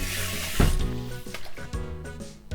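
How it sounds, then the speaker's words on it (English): Running water and scrubbing on a frying pan in a sink, with clanks and splashes over background music. "Then I'm gonna quickly wash the frying pan."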